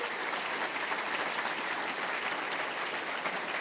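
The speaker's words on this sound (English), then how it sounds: "Let's give them all a round of applause." Audience at a Google Angular team panel applauding, steady even clapping from a crowd, moderately distant and sustained without a break.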